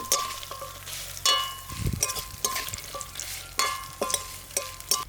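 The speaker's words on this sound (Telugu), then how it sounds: "కొబ్బరి ముక్కలు వేసుకుని వేయించుకుందాం" Coconut pieces fry in a pan for coconut chutney, with a crackling sizzle and repeated scraping strokes from a stirring spoon at a steady rhythm, close and loud, with no talk.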